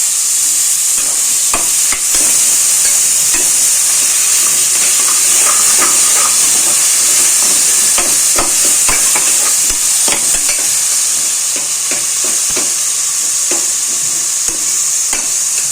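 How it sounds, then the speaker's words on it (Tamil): Chicken biryani ingredients fry in ghee and oil, giving a loud, steady sizzle and hiss with frequent scrapes and clinks of stirring over about sixteen seconds. "இதில் கொஞ்சம் நெய்யும் 1/4 டம்ளர் எண்ணெயும் விட்டுருக்கோம். நல்லா வதங்கட்டும்."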